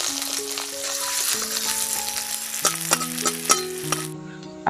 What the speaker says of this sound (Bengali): ওই তেলের মধ্যে পেঁয়াজ কুচি দিয়ে দিচ্ছি